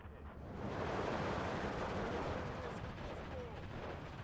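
Artillery fire in the Steel Division 2 war game, heard as a continuous rumbling barrage of booms and blasts that swells in the first second and stays loud and dense throughout.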